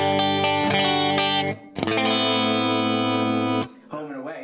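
A Revelation electric guitar played on the bridge pickup gives a bright, jangly tone: a few ringing strums, a short pause, then a longer sustained chord, close and loud.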